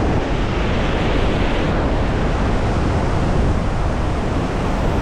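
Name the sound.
wind and rushing water at Iguazu Falls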